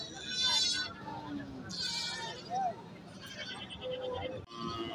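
Goats bleating at a busy cattle market, a few short cries standing out amid constant crowd chatter and people talking nearby.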